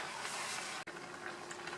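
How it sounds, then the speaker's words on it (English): Pork adobo broth and vinegar boiling in a pot, a steady bubbling hiss that runs throughout, close and even, with one brief dropout partway through. "It's boiling"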